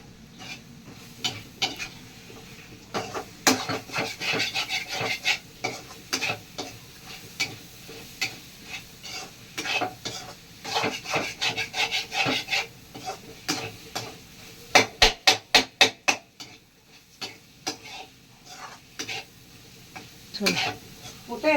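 Egg and cauliflower stirred and fried in a pan, a spoon scraping and clinking in uneven bursts over a low sizzle, with a quick run of sharp taps near the end and brief talking in places.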